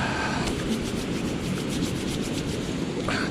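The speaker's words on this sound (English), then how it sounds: "Just rub the oil in. It's good for your hands, you know." Hands rubbing fish oil together by a fishing spot, a continuous close, loud scuffing and swishing friction with steady rhythmic strokes.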